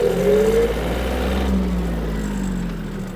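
A Yanmar F-210 Japanese mini tractor speeds up, its small engine droning close and steady with a rising tone before easing off, with no talk over it.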